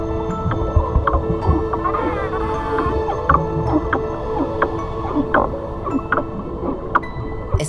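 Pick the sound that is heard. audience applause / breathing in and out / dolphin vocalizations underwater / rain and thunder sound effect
dolphin vocalizations underwater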